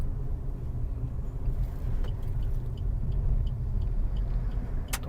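A car drives slowly while its occupants look for a parking spot near a temple in Saswad, giving a steady low engine and road rumble, close and continuous, with faint clicks near the end.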